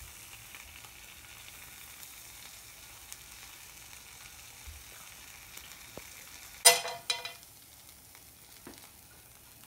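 Toothpaste hisses quietly on a hot pan, the sizzle low and steady until a sudden loud burst of crackling spatter as it gets moved around, then it settles back to a soft fizz.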